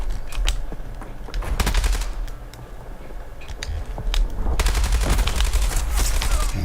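Rapid bursts of video game gunfire from Call of Duty Black Ops 7, sharp repeated shots crackling in clusters across the scene, loud and close, with brief lulls between volleys and no talking over them.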